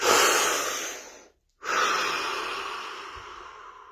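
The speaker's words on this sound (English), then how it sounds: "Deep breath." A deep breath drawn close and loud, a long rushing inhale that cuts to a short silence, then a long steady exhale that fades slowly.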